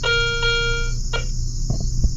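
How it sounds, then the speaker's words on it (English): A metal detector wand emits a sustained harmonic beep that cuts off, followed by a couple of shorter tones and faint clicks over a steady background hum. "I gotta turn this darn metal detector off so it's not beeping at you"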